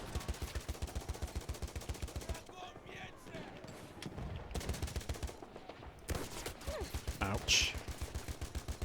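Rapid bursts from a light machine gun in Battlefield 1, sustained rhythmic fire with brief pauses, mixed with other distant gunfire and game effects while a player talks over it.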